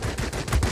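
Rapid bursts of 30mm cannon fire in the World of Warplanes combat game, a quick loud rattling volley lasting under a second with no voices.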